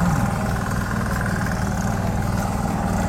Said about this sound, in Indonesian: tadi Pak Ali sudah menjelaskan perbedaan antara mesin bajak mini Firman Indonesia dengan yang lainnya